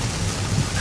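Heavy rainstorm drumming on a 2023 Range Rover SE PHEV while it is driven, heard as a dense, steady hiss of rain over a low road rumble, close and continuous for under a second.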